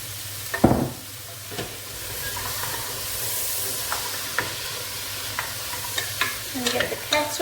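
Frozen butternut squash, carrots and swede sizzle in a frying pan, a steady hiss of frying under scattered stirring scrapes and utensil knocks close by.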